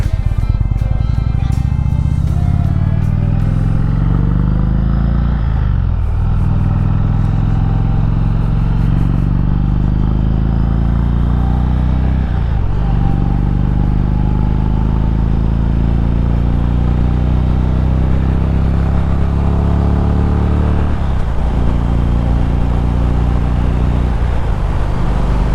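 A motorcycle ridden on an outback road pulls hard up through the gears to sixth. The engine drone is loud and steady, its pitch climbing and then dropping with several shifts, under wind noise and a little speech.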